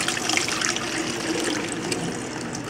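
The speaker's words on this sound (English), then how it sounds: "then we're going to be pouring another cup of vinegar" White distilled vinegar pours steadily into a measuring cup, a continuous close liquid stream splashing and filling.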